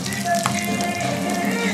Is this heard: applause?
no